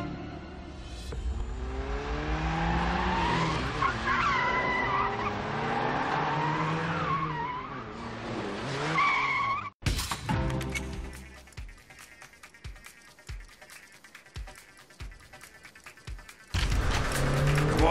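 A car pulls away in The Wheelman video game on the streets of Barcelona, its engine revving loudly under a voice before a sharp break into squealing, skidding tyres with repeated thumps and a final surge of engine noise.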